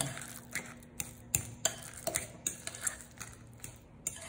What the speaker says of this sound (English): I'm just gonna mash the bananas.